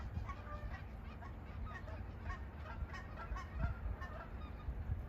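Canada geese near swans at Creamers Field Migratory Bird Sanctuary in Fairbanks, Alaska, many fainter honks overlapping in a continuous chatter from a flock at moderate distance, over steady low outdoor rumble.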